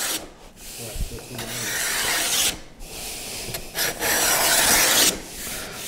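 A wooden box edge built with a Leigh dovetail jig is beveled to within a quarter inch of the bottom. Steady, loud, close abrasive rasping comes in long strokes with short pauses between passes, and no talk.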